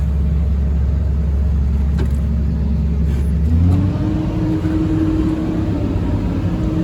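Komatsu PC200LC-8 excavator diesel engine idling, a loud steady low rumble heard from close by that shifts to a slightly higher, even drone partway through, with no speech.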